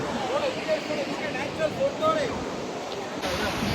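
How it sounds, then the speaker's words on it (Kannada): Barachukki waterfall at Shivanasamudra pours in a steady, broad roar of rushing water that fills the whole clip, with a voice talking over it. "ಗೈಸ್, ನಾವಿಲ್ಲಿ ಭರಚುಕ್ಕಿ ಫಾಲ್ಸಿಗೆ ಬಂದಿದ್ದೀವಿ."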